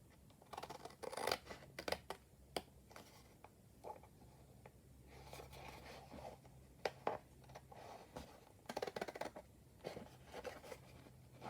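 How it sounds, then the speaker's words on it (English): Scissors cutting out paper tags made with a collage masterboard, heard as close, quiet snips and crisp paper-slicing strokes in irregular bursts, with soft handling rustles between cuts and no talk. "let's cut these out."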